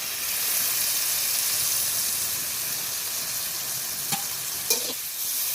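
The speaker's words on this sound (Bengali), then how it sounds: "সয়া সস দিয়ে নাড়াচাড়া করে" Meat stirred in a hot pan with beet salt and soy sauce gives a steady, close frying sizzle with broad hiss, broken near the end by two brief utensil clinks.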